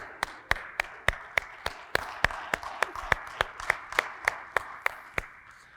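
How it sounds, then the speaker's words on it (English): Church congregation clapping at a live worship service, a steady, even rhythm of sharp handclaps, about three per second, fairly faint and without talk. "Let's give her another round of applause"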